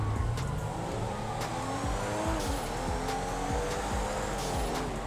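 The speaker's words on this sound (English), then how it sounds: "These are some fast cars, like, for real." Fast cars in GTA 5 roar and rev loudly nearby while tires squeal and skid, with engine pitch sweeping up and down in quick repeated gear changes throughout.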